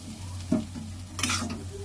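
Bhatbhati potatoes fry in a wok with a steady close sizzle, broken by a couple of scraping stirs and a brighter hiss toward the end.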